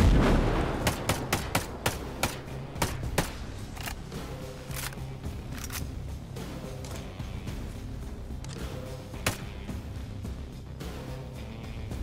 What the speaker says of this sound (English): All right, so we got somebody shooting rockets.